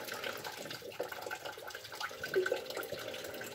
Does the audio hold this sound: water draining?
yes